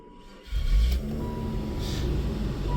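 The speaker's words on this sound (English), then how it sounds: "I'll start the damn car." A Ford Probe GT engine cranks and starts roughly, catching with a deep low rumble and then settling into an uneven idle, close by.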